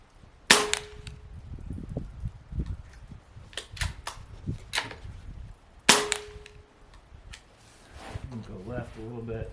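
Two sharp, close shots from a Benjamin Marauder PCP air rifle ring out a few seconds apart, each a hard crack, with handling noises and someone talking in between.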